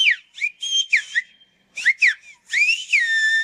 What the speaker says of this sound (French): C'est presque comme un langage codé spécial qu'ils utilisent, sauf qu'ils ne le parlent pas vraiment, ils le sifflent.